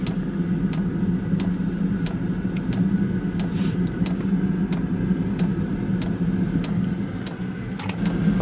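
A diesel heater in a Mazda Bongo runs after being lit, giving a steady low roar with regular sharp ticking pulses repeating about every half second, close and continuous.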